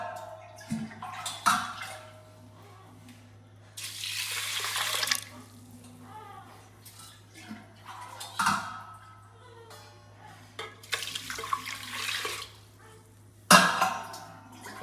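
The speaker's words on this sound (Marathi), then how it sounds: "आता याच्यामध्ये भिजण्यासाठी टाकणार आहे 2-3 तांबे पाणी" Water is poured from a pot over washed rice to soak it. The splashing pours come in three separate bursts with quiet pauses between them, close and clear, with a faint steady hum underneath.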